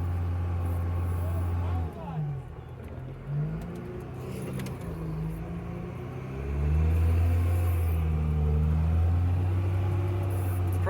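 A Jeep XJ engine drones steadily while driving down the road, dipping at a gear change and then swelling louder as it accelerates, with a low, rumbling tone throughout.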